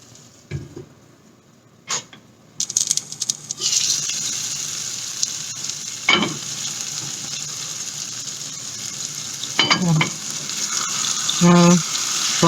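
Mutton masala dry-fries in a pan on a gas stove at low-medium heat with a steady, soft sizzle. Now and then a scrape or clatter of stirring cuts in.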